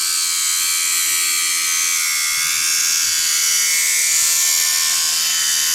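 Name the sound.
grinder cutting off a piece for a spacer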